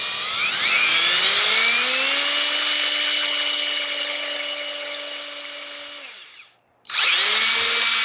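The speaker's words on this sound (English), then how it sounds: "So now I'm just gonna drill this hole" A loud power drill whines at high speed for several seconds drilling a hole for a spear gaff, winds down and stops, then revs up again sharply.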